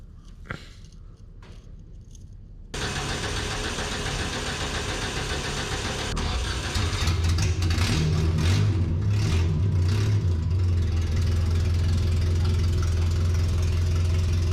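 An old delivery truck engine cranking and catching after a quiet start, then settling into a loud, rough, knocking idle with repeated revs, close up in a shop.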